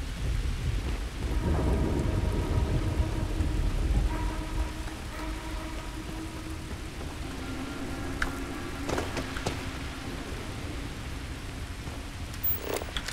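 Steady rain in the video game Starfield falls at night, with rumbling thunder under it and a constant hiss of drops, heavier at first and then settling into an even, close patter.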